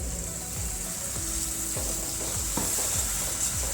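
Tomato and chili puree going into a pan of sizzling fried spices for dhaba-style chilli paneer, with a steady close hiss and a few soft stirring scrapes and splashes.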